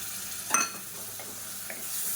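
Chicken masala mixture with yogurt sautéing in a pan over a medium flame, a soft steady sizzle with one brief utensil scrape and a couple of faint clinks.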